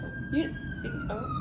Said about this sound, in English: Pardon the sirens.